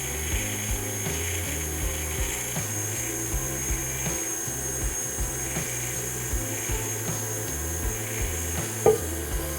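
A stand mixer whips tart apple marshmallow mixture at low speed, producing a steady mechanical whir with a rhythmic churning pulse at moderate volume, without anyone speaking.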